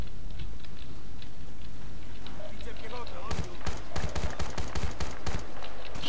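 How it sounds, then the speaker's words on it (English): Battlefield Bad Company 2 video game combat: steady battle noise, then a rapid burst of loud, close gunfire shots in quick succession, mixed with sniper cracks. "A sniper shot at me as well, so that's quite dangerous."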